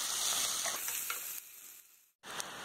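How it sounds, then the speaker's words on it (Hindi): Onion and green chili frying in oil over a medium flame, a steady close sizzle with stirring scrapes, briefly cutting out before the hiss resumes. "अब इसमें प्याज और हरी मिर्ची साथ में डाल देंगे और इसे मीडियम फ्लेम पे प्याज का कलर चेंज होने तक फ्राई करेंगे।"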